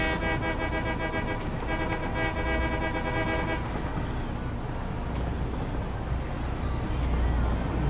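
Train horn in the factory-building video game Satisfactory blares a loud, sustained chord for several seconds, then cuts off, leaving rumbling train movement.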